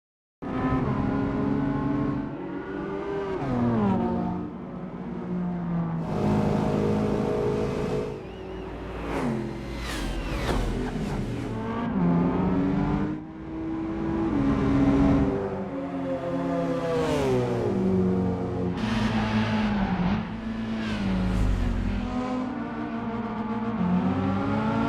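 Standard cars from the Gran Turismo 5 racing game rev and accelerate through the gears, engine pitch rising and falling repeatedly with brief tire squeals, loud and continuous for the whole stretch with no talking.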